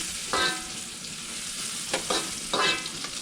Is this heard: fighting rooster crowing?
no